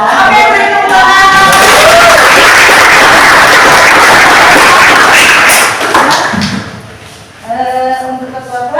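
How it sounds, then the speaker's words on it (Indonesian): A classroom of students claps together in a loud burst of dense applause lasting several seconds, which then fades out as a voice begins talking. "Oke, beri tepuk tangan."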